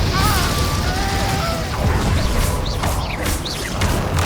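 An Incendio fire spell in Hogwarts Legacy, cast amid a chaotic duel with crackling bursts, pops and whooshing impacts, loud and layered with game effects and a faint voice.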